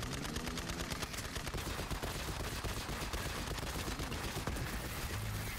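Dense, continuous automatic gunfire from a Borderlands 3 firefight, loud and unbroken, with rapid shots blurring into a steady roar throughout.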